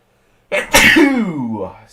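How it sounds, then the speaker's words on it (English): One loud, close sneeze bursts out, then flows straight into a voiced, wavering exclamation trailing off. "as I sneezed"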